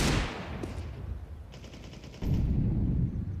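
Gunfire in Counter-Strike 2 during a match on a map with a Banana area, including Desert Eagle pistol shots and a reload: a burst of shots at the start, quieter clicks and mechanical rattles, then a louder low rumble toward the end.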